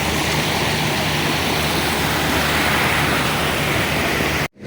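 River water cascades steadily down stepped concrete weirs like a small waterfall, a loud, dense, continuous rushing roar that cuts off abruptly near the end.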